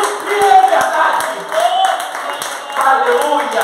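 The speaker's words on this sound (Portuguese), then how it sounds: "Uma linda salva de palmas para Jesus." A church congregation claps for Jesus during worship, with dense applause rising and falling in waves under a warm, reverberant room sound and voices.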